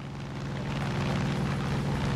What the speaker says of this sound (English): this helicopter is going fast.